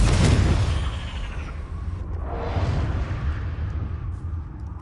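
Fiery Confringo spell blast from Hogwarts Legacy combat, a loud booming burst that rolls into a rumbling explosive wash and fades over a few seconds.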